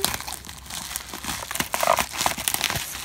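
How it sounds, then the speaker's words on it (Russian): Parcel packaging is torn open and unwrapped, with loud, close crinkling and crumpling of plastic wrap throughout and no speech. "давайте откроем вот эту вот упаковочку"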